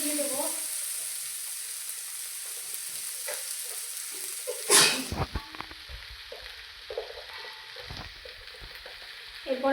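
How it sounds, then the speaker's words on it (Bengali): Lentils (dal) lightly frying in a pan give a steady close sizzle, with a brief clatter of stirring partway through and some low background noise. "দেখো ডালটা হালকা করে ভাজতে হবে, বেশি পোড়ালে হবে না"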